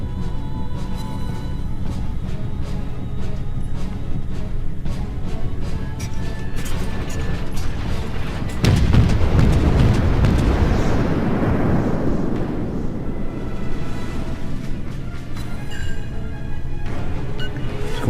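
A warship's main battery guns fire in World of Warships, a heavy booming salvo that swells into a loud rolling blast midway, set against a steady engine rumble and faint background noise.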